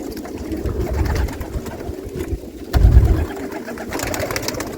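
Flock of French pigeons, around seven thousand birds of a single colour kept in Saudi Arabia, cooing in a low continuous murmur with a louder swell midway, close and steady without speech.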